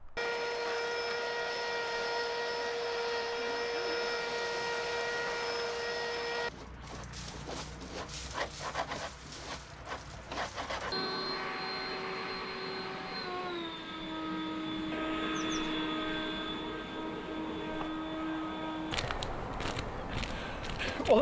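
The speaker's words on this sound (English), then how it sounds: "I got this cordless blower last year" A cordless leaf blower clears a few leaves off a house roof, its steady high whine running close and loud, shifting pitch as it moves, broken by stretches of scraping and footsteps.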